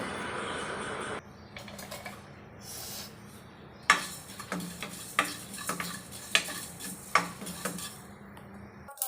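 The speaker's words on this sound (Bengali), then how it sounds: "ফ্রাই প্যানের ভিতরে আমি পাঁচফোড়ন ভেজে নিচ্ছি" A metal utensil scrapes and taps against a frying pan in a regular rhythm, with a faint sizzle of five-spice seeds frying in the background.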